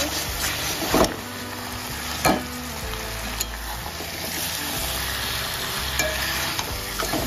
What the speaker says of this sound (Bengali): নাড়িয়ে কষিয়ে নেব মাথাটা